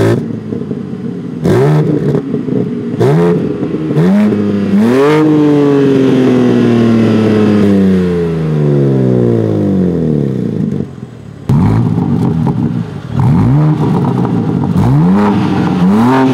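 A 2021 BMW G82 M4 is revved through its quad exhaust pipes: a few sharp blips, then a long rev that winds down slowly, followed by another run of quick, loud throttle blips, close by and with no talk.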